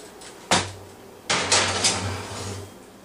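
A baking dish holding a Texas bedroll goes into a home oven, with a sharp clunk of the oven door opening, then a second thump and rattling metal knocks as the dish is slid in and settled, up close and without talk.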